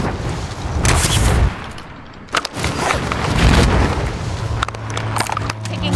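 Gunfire in a Warzone match: bursts of shots and booming impacts crowd the first half, then more scattered cracks and rumble follow, loud and fairly close with a low steady drone underneath.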